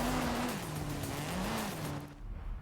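A car in a video game drives with a droning engine tone that rises and falls, and tires squeal briefly as it fades out. No one talks over it.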